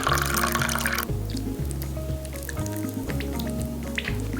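Ice cold water poured steadily into a craft kit mixture, a continuous liquid splash and trickle with drips, heard against a sustained tonal background.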